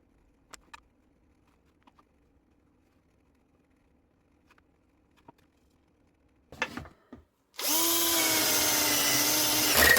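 A power drill boring holes in wooden boards for scroll saw cuts, starting loud and close after a few faint knocks and handling sounds, then whirring steadily to the end.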